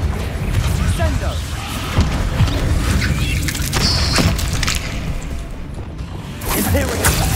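Spells cast in a Harry Potter video game burst out as a dense run of whooshes, booms and crashing impacts, one after another, with a voice calling out over the loud effects.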